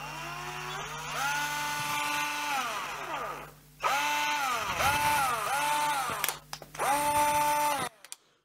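Cordless screwdriver converted from Ni-Cd to Li-Ion batteries running in several bursts, its motor whining up to speed and winding down between trigger presses, close and clear with no talking.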